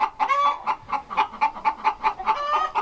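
Chickens on a farm clucking close by in a quick, steady series of short clucks, about a dozen in under three seconds.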